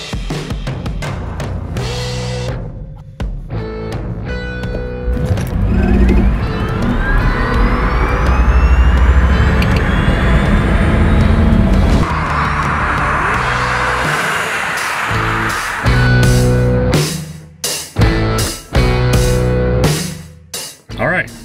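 Tesla-powered electric Land Rover Defender 110 accelerating from 0 to 60, a rising whine and rushing road and wind noise that builds loudly for several seconds before easing off, with people talking before and after the run.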